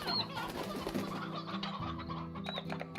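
A flock of chickens clucking in the video game Slime Rancher, overlapping close bursts of clucks with a couple of higher squawks, continuous over a low game background.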